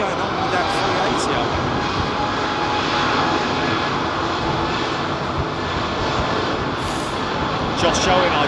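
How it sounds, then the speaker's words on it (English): A jet airliner with LEAP-1A engines departs London Heathrow, its engine roar steady, broad and loud, rumbling on without a break. "Josh Owen, I do love the sound of a Leap 1A. There's one right there, Josh"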